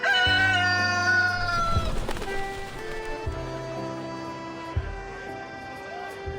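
White rooster in Reverse: 1999 clucking and crowing in harmonic bursts over an ongoing game music bed, with several calls across a few seconds, fairly close and clear.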